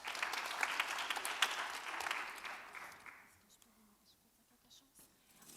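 An audience at a spelling bee gives a short burst of applause, a patter of clapping that fades after a few seconds into a quiet room with faint murmurs.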